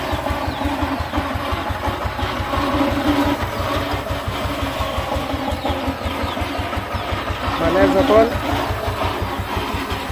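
A small power tiller engine, used for threshing paddy, chugs with a fast, steady throbbing pulse throughout, fairly close, while a person speaks briefly over it.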